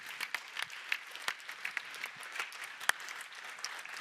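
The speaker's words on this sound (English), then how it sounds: "Let's give them all a round of applause." Applause at a conference closing session: scattered, fairly quiet clapping with distinct individual claps popping out over a light wash of hands.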